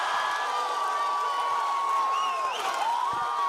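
Arunachal Pradesh supporters roar at a volleyball match of the North East Games in Nagaland, a loud, sustained crowd din with whoops and shouts rising briefly midway.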